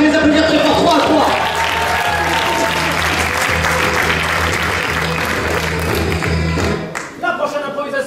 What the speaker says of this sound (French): On peut les encourager, les applaudir très fort.